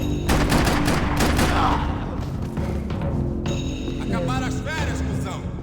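Gunfire in Max Payne 3, a dense burst of loud rapid shots followed by scattered reports, with game speech and a person talking over the tail.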